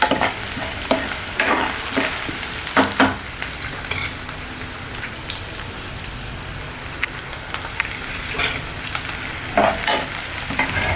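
Onions sauté over medium heat in a soft, rain-like sizzle, broken by frequent clattering scrapes of a spoon stirring the pan. The sound is close and continuous, with the stirring coming in irregular bursts.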